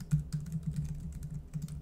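Fingers typing on a computer keyboard, a quick irregular run of soft close keystrokes with no voices.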